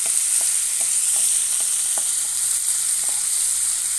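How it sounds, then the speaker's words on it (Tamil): Chopped onions sizzle steadily in hot oil in a pan, a close, continuous frying hiss with a few light stirring clicks. "வெங்காயத்தை நான் போட்டு வதக்கிக்கிறேன்."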